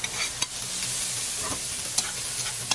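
Tofu being stirred into a hot pan with green onion and chili, a steady frying sizzle broken by a few sharp scrapes and clicks of the utensil.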